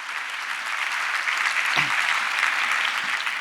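Loud, sustained audience applause welcoming a chief guest at a vocational guidance programme, dense clapping from a crowd filling the whole stretch without letup.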